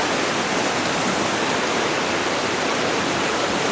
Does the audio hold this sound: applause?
no